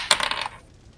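Dice tumble onto a tabletop, giving a quick run of bright, rattling clicks that fade within half a second. The clatter is close and alone, with no voices.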